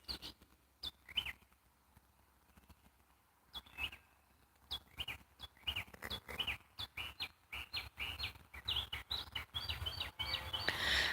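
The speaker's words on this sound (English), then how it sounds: "Daniel, I'm watching the sunset and listening to the birds singing." Birds sing at sunset in a quiet natural outdoor spot, with a string of clear, fairly close chirps and whistled phrases that grow denser and more rapid over the second half, set against a near-silent background.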